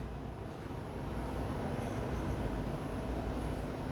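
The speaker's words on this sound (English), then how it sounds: "And you got that Lear coming in." A Learjet comes in at a busy airport with a steady, broad jet roar that holds at fairly high level and swells slightly partway through, with no talk over it.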